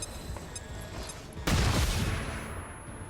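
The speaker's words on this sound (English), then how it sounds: "more important right now to throw that flashbang" A flashbang grenade goes off in the video game XCOM Long War of the Chosen as a single sudden loud bang that rolls into a decaying rumble over quiet game ambience.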